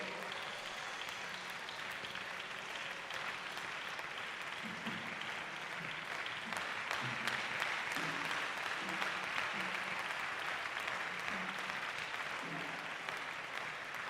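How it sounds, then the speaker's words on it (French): A church congregation applauding and cheering continuously during Sunday worship, a dense wash of clapping with scattered voices, fairly distant and even throughout. "ensemble nous allons donner des acclamations à notre Dieu"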